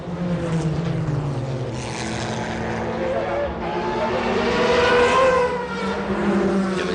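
A Porsche 911 GT1 heard onboard at Le Mans in 1996, its engine a loud, continuous roar with rising and falling pitch through gear changes, with race commentary talking over it.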